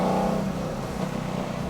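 LS V8-swapped BMW 330i race car on a race track, its lighter build pulling a steady, loud engine drone at close range with slight pitch shifts, no talk.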